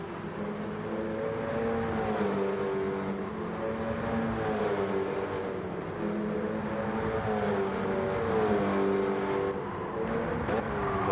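Small racing cars compete in a league race, their engines a continuous whining drone that rises and falls in pitch as they circle, loud and steady without any talk.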